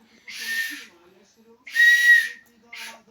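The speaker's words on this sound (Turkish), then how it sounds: "Oh, polisin düdüğü." A toy police whistle gives two shrill blasts and then a short third toot, each clear and close in a quiet room.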